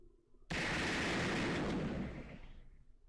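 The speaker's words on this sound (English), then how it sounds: "No, it's cannon fire." A single cannon blast in the Fate/Grand Order game erupts abruptly as a loud, broad boom, then rumbles and fades over a couple of seconds.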